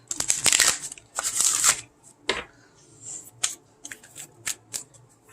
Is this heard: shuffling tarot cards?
yes